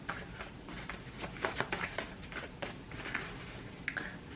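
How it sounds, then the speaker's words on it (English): A large deck of tarot cards is shuffled by hand, giving a string of quick papery riffles and flutters, close and fairly soft, with no talking. "I'm gonna split it in two so I can shuffle better"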